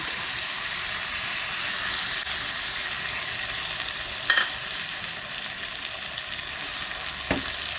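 Bitter gourd (ampalaya) stir-frying with egg in a pan gives a steady, close sizzle and hiss throughout, with a couple of brief clinks or scrapes from stirring. No one talks.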